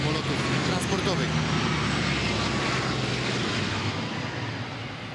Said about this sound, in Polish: Lockheed C-130 Hercules trzeciego skrzydła lotnictwa transportowego. Jeden z największych czterosilnikowych samolotów transportowych.